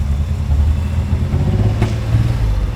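A GMC Syclone truck engine rumbles low and close in a rough idle, letting out a single sharp pop partway through.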